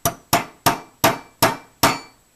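Six sharp metallic hammer strikes at a steady rhythm ring out close and loud, each decaying quickly, while a part is tapped into place during an AR-15 rifle build without a proper hammer.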